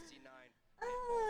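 A pet cat meows softly in a couple of short calls, with a person talking nearby and partly over the sound.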